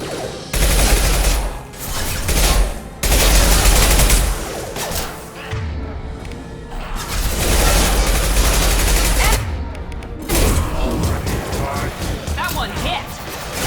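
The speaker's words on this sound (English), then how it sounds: "Firing now." Heavy, continuous gunfire and blasts in the sci-fi shooter Mass Effect 2, loud and dense with brief lulls, mixed with game noise and a voice talking over it.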